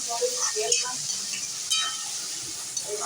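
Tomatoes and onions cooking in hot oil for pav bhaji, a steady sizzle with occasional scraping stirs and faint clinks of a pan, close and continuous throughout.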